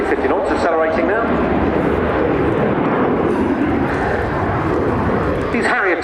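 AV-8B Harrier II jet at an air show accelerating to 350 knots after a double aileron roll, a loud continuous roar that swells at the end, with a commentator talking over it.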